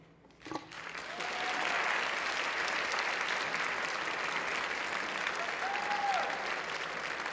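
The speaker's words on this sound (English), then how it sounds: "Give her a big round of applause." A banquet audience at the Re:Gender 2014 awards dinner breaks into sustained applause after a faint early knock. The clapping swells quickly and holds as a steady, full roar of many hands until the end.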